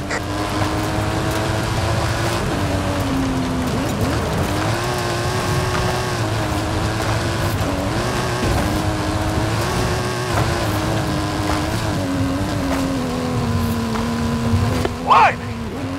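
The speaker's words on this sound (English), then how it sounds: "Hammer it up the hill, kid. That stunt vehicle is a Mike Steel special." A stunt car with a custom engine and suspension in Forza Horizon 5 climbs a hill, its engine note droning and shifting pitch through gear changes, loud and close, with a voice speaking over it.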